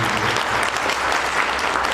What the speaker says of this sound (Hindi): मंच पर विराजमान इन महान मूर्तियों के लिए जोरदार ताली बजाएं